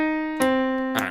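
Piano sounding a low tenor line from a choir rehearsal of Elijah: a sustained held note, then a second note struck and held, close and clear with no voices.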